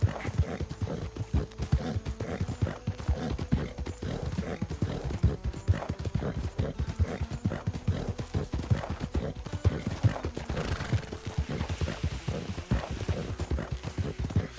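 Horse galloping in a Western roleplay game, its stamina run down: steady, rapid clip-clop hoofbeats fill the whole stretch, close and even, with an occasional whinny and no talk.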